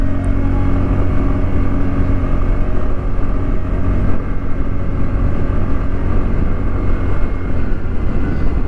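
A continuous, loud roar of engines and road noise rolls past in Koliabor while riding a TVS Ntorq scooter through busy traffic full of vehicles, with a steady low hum and no break.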